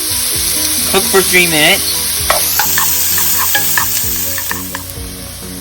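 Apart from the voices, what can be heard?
onions frying in oil in a pan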